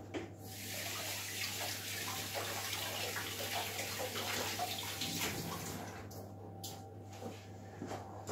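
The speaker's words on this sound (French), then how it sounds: "Je vais la rincer un petit peu, je vais vous montrer ce que ça fait." A scallop being rinsed under a running kitchen tap: a continuous close splashing stream of water that stops toward the end, leaving a few faint drips and a low background hum.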